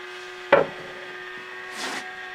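Top of a motorized lazy Susan lifted off with a sharp close knock, followed by a faint scrape under a steady low hum.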